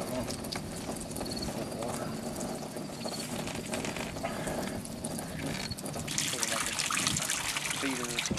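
Water pouring steadily from a freshly installed deep well, high flow solar pumping system, a continuous trickling gush that grows louder and fuller toward the end.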